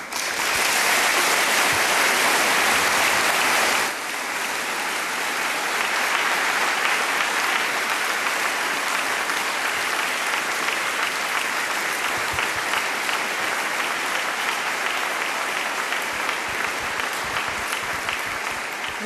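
A debate audience applauds steadily for about 19 seconds to welcome two gubernatorial candidates, dense broadband clapping that is loudest for the first few seconds and then settles into a slightly softer, sustained ovation with no talk over it.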